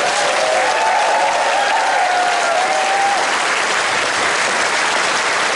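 Steady, dense applause from a convention audience at an opening ceremony in a hotel hall, loud and sustained throughout, with a faint whistle or tone drifting over it early on.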